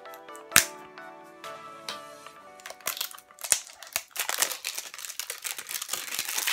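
Close-up crinkling and tearing of plastic wrapping around a primer spray, sharp snaps and rustles building into busy handling of packaging.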